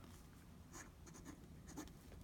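Wahl fountain pen nib scratching lightly across paper, faint soft strokes at close range, quiet and alone.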